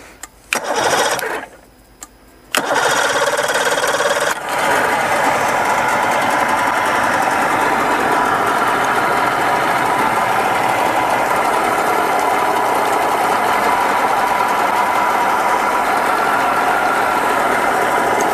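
A Mercury 60 hp outboard motor starts with a brief cranking burst and a pause, then catches and settles into a loud, steady idle that runs without a break.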